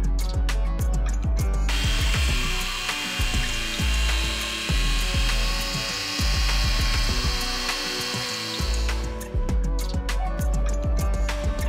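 A power tool cuts through a thin, flimsy plastic underbody panel from a Rivian electric vehicle, a loud close whining buzz with rattling vibration that runs continuously for several seconds, changing pitch slightly as it bites.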